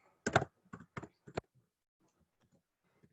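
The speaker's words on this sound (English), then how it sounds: "So let's type in that." An email address being typed on a computer keyboard: a quick run of four loud, close keystroke bursts, then a few faint scattered taps, with no talking.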